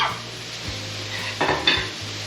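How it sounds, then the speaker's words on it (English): Burger buns toasting in olive oil in a pan make a steady close sizzle, with a low hum underneath and a couple of brief clatters from utensils against the pan, no voices. "I'll throw these on with a little bit of olive oil and then let these toast"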